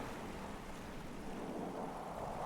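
Steady, faint rain hisses in Project Castaway, a broadband wash of falling water with no breaks and no voices over it.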